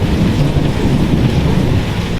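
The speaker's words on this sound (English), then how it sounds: "It's been quite a vocal thunderstorm." Thunderstorm with heavy rain drumming steadily and a deep rumble of thunder underneath, loud and continuous throughout, no voices.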